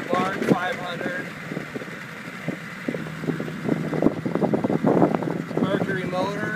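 A 1961 Mercury 500 outboard boat motor runs on a mountain lake at about 4,500 feet elevation, giving a steady low engine drone beneath someone talking throughout.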